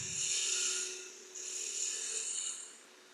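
A woodturning gouge cuts into spinning wood on a lathe while turning Christmas ornaments, giving a bright, hissing shear in two long passes with a faint steady motor hum underneath, fairly quiet.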